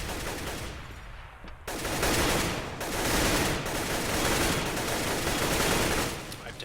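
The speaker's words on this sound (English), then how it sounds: "I've taken a little bit of a wall bang through the wall there." Rapid bursts of gunfire in Counter-Strike on the Cache map at a LAN semi-final, shots fired through a wall, loud and dense after a brief quieter moment at the start.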